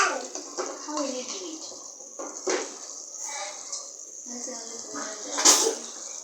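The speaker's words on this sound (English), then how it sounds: "We're gonna drain the water." Water being drained from a pot of boiled spaghetti in a home kitchen, a faint running, splashing wash under close talk from an adult and a child.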